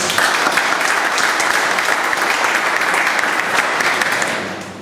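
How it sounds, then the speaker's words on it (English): A full room at a Toastmasters meeting bursts into steady, dense applause, loud and sustained, then begins to fade at the very end. "A big round of applause."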